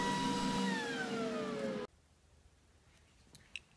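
A Glowforge laser cutter working on foam gives a loud, steady whine whose tones sag downward before cutting off abruptly, leaving near silence with a few faint clicks.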